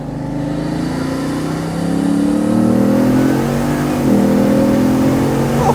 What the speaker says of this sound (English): if you put your foot down and lift off, you get this amazing whoosh from the wastegates as they release all that gas